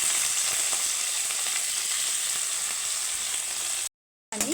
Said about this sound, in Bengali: আমি পেঁয়াজটাকে একটু হালকা করে ভেজে নেব।